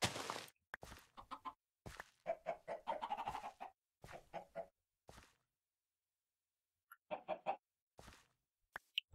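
Minecraft chickens cluck in a string of short, clipped bursts in irregular groups, fairly close and clear, separated by brief silences.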